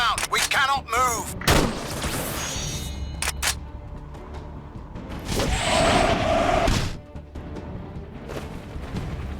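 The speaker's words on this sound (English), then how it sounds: "Heavy small arms all over my pass!" Heavy small-arms fire crackles in a Battlefield 2: Modern Combat battle, with bursts, thumps and whooshes layered over shouted talk throughout.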